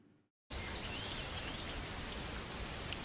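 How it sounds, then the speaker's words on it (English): Rain in the Fernbus Coach Simulator driving game during an evening drive, a steady loud hiss of falling rain that starts abruptly after a brief silence and continues evenly. "So here we are then, and it's raining again."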